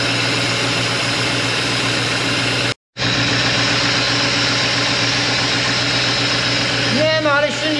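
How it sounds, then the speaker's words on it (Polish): A BMW engine, a 728i or 740i from the E38 line, hums at a steady idle in a workshop with a constant droning tone, briefly cutting out to silence partway through, then a voice speaks over it at the end. "Nie no, ale silnik chodzi bajka."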